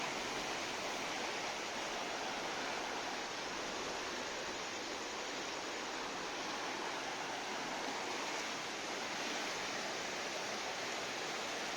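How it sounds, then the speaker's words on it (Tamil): Water flowing steadily at a bathing spot, a dense, even rushing sound like a stream or small waterfall that fills the scene without pause. "தண்ணி வேறு எப்படி போகுதுன்ட்டு செம்மையாக இருக்குது."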